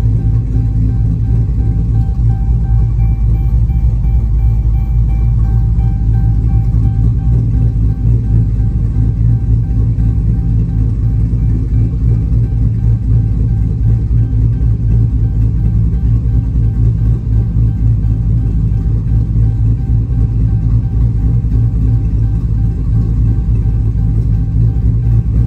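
A cammed Dodge SRT8 V8 idles with a deep, steady low rumble, loud and close, holding a continuous throb with no voices over it.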